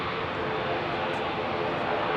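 A jet aircraft departs London Heathrow at sunset with a steady, loud engine roar that stays close and unbroken for a couple of seconds.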